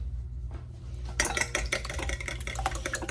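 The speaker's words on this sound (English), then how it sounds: "we're gonna just whisk that" Whisking vanilla sugar in a bowl for Valentine's jam cookies: quick, close scraping and tapping of a whisk against the bowl, starting after a quiet moment and continuing as busy rhythmic clatter.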